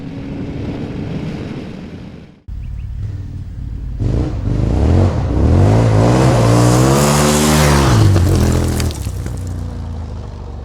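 A KTM 1290 Adventure R motorcycle fitted with a Puig touring screen revs up and accelerates, its tone rising steadily and loud, with a rushing wind-like roar from riding at speed.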